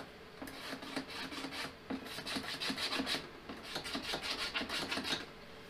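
A scriber scratches a line along a model car body in quick, repeated rasping strokes, close and faint, with a steady rhythmic scraping.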